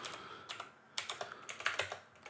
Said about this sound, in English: We're going to type text